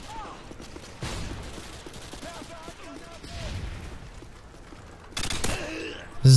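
Gunfire in the video game Call of Duty: Modern Warfare 2, a steady spread of shots and bursts across the whole stretch with a louder volley near the end, mixed under a voice talking.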